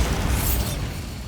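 A Bombarda spell detonates in Hogwarts Legacy, a single loud, close explosive burst with a bright crackling top that fades quickly.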